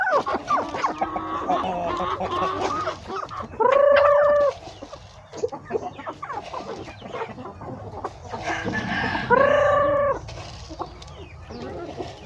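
Several free-range backyard chickens with colds cluck and murmur close by, with two loud drawn-out rooster crows standing out from the steady clucking.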